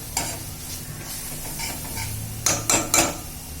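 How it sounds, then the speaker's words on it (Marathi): Masala for Agri-style mutton rice is stir-fried in a pan with the gas turned off. A low sizzle sits under close stirring, with a quick run of three loud metallic clanks near the end. "चांगला मसाला परतून झालेला बंद गॅसवरच परतून घ्यायचा आहे"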